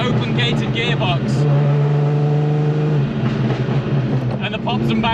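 A straight-piped Ferrari F50 V12 revs loudly nearby, the engine note climbing and holding in a sustained howl before easing off, while someone speaks over it throughout.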